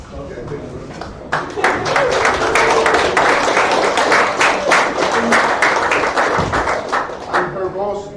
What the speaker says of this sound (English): she asked for applause for Daan and not for me